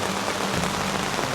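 Heavy rain pouring steadily in an Oregon forest at a truck campsite, a dense, continuous hiss of drops hitting leaves and surfaces with no letup.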